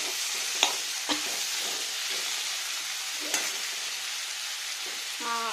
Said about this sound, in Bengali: আলুটা ভালো করে ফ্রাই হোক, ধিমি আঁচে করলে আলুটা ভালো ভাজা যাবে।